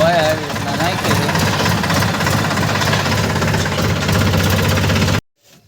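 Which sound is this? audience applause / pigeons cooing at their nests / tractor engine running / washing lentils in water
tractor engine running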